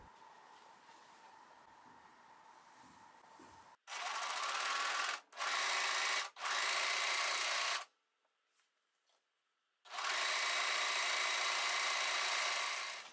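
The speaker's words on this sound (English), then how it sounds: "Overlock the short row edges." An overlocker serges the short row edges of fabric for a tiered skirt, running in loud, close bursts of steady buzzing hum separated by short stops, after a quieter low background hum.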